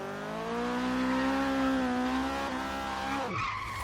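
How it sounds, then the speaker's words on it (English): A Subaru BRZ in Forza Horizon 3 drifts with a long, sustained, loud tire squeal and engine tone, which drops away sharply near the end. "we're gonna get into some drifting action"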